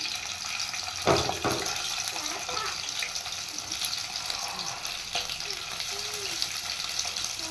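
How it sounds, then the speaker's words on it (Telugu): Raw prawns go into hot oil with a sudden sizzling burst, then a steady close hiss of frying continues with small pops and kitchen clatter. "ఆయిల్ వేడెక్కింది. ఇందులో పచ్చిరొయ్యలు వేస్తున్నాను."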